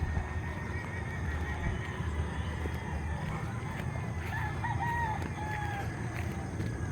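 Chickens cluck and a rooster crows faintly across an outdoor farmyard in Molino, Cavite, Philippines, with a horse whinnying and steady background noise from wind or distant activity.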